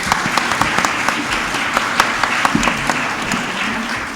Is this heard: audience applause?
yes